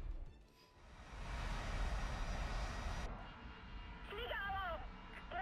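An A-10 jet's engine in the War Thunder video game gives a steady, loud roar that cuts off abruptly. Softer engine noise continues with a few short, chirping tones near the end.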